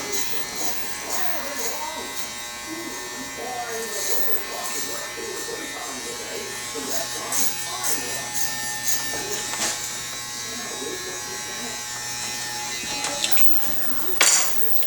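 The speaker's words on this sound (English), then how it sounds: "Put this clipper on about a 1/16, I believe." An electric hair clipper set to about a 1/16 blade buzzes steadily while fading a high and tight military haircut, with someone talking over the hum throughout.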